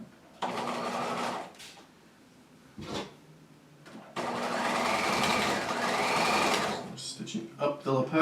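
A domestic sewing machine stitches a jacket lapel in bursts: a short run, a brief pause, a quick blip, then a longer steady whirring run, with a person talking nearby and small handling clicks at the end.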